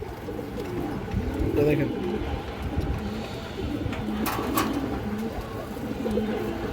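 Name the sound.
pigeons cooing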